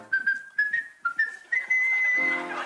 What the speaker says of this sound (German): das Pfeifen macht Spaß